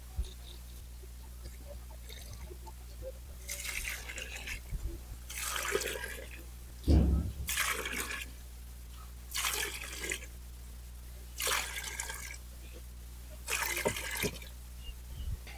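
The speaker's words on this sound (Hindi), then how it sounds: "सिर्फ और सिर्फ सादा पानी से इस टीन को भर देना है।" Plain water poured into a tin holding vegetable peels for homemade liquid fertilizer, coming in repeated splashing bursts of a second or so separated by short pauses, close and moderately loud, with a low steady hum underneath.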